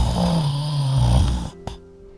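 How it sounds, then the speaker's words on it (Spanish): A loud, drawn-out snoring sound for a dinosaur in a children's story, one long rumbling snore that ends in a snort, followed by a short sharp knock and a faint steady hum. "Entonces llegó el ronquido."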